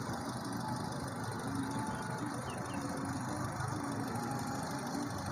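A smooth, steady engine idle from a 2013 Honda CR-V with a K24 DOHC i-VTEC engine hums quietly at close range, even and unbroken with no revving or voices.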